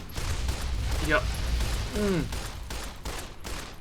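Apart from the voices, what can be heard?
pistol gunfire in video game Fallout: New Vegas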